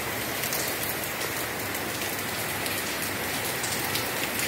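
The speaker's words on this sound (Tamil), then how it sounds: "அது எப்படி சாரல் மழை எவ்வளோ அழகாக பெய்யுது" Light drizzling rain falls outside a window, a steady, even hiss of fine drops pattering on surfaces throughout, with no voices.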